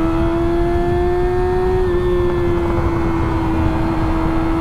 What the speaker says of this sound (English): Goddamn, those some loud ass tires